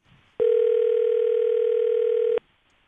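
A steady telephone call tone sounds alone for about two seconds, loud and unbroken, with silence before and after, as a call fails to connect and rolls toward voicemail.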